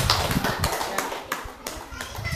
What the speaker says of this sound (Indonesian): Tepuk tangan buat Nona Eda.